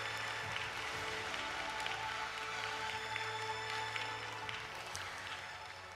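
An audience applauds the opening of the 7th World Humanities Forum, a dense, even round of clapping from a hall crowd that holds steady and fades slightly toward the end, with no voices over it.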